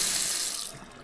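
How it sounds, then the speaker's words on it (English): Water runs from a bathroom sink tap in a steady broadband hiss, loud and alone at first, then easing slightly toward the end with no voices. "There's also a sink that offers water on demand."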